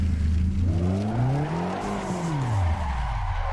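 A car drifting in Assetto Corsa, its engine revving with a wavering pitch that swoops up and back down, steady and loud, with tire skid noise throughout.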